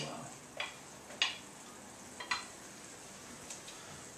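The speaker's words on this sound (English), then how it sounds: "And I'll add the garlic" Garlic goes into a hot pot for pasta e ceci, giving a faint soft sizzle punctuated by several light utensil taps and scrapes spaced about a second apart.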